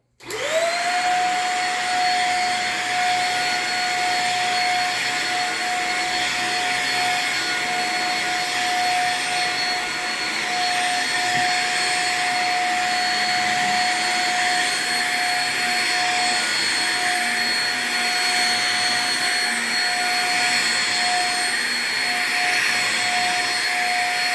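A vacuum cleaner runs steadily on a house floor during home cleaning, its loud, constant motor whine and rushing airflow holding unbroken for the whole stretch, close and alone with no voices.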